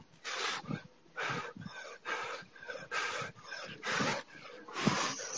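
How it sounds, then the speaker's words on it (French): A small dog pants close by in steady, rhythmic bursts of breathy, huffing breaths, with a brief pause between each one. "Il y a mon petit chien."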